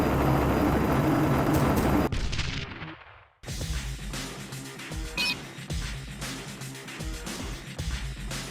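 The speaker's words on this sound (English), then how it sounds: "a helicopter keeps strafing the deck" Helicopter strafing a ship's deck in the Marvel Ultimate Alliance game: loud, continuous rotor and gunfire din that cuts out abruptly, fades briefly, then resumes as dense rapid bursts and explosions throughout.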